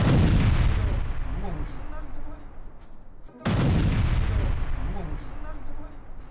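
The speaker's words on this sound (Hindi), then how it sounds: "जोरदार धमाके की आवाज साफ साफ सुनाई दे रही है।" Two heavy, loud blasts from a Russian missile and drone attack on Kyiv, each striking suddenly and rolling off into a long, deep rumbling decay, the second arriving a few seconds after the first.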